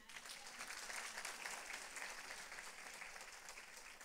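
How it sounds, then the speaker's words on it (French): A church congregation applauds steadily for several seconds, a dense, even patter of clapping hands that neither builds nor fades. "On peut l'applaudir?"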